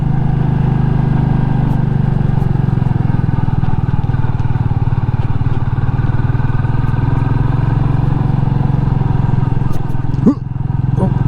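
A Royal Enfield Meteor 350 motorcycle thrums steadily along a long, twisty road, its single-cylinder engine loud and close with constant wind rush and a brief clatter near the end.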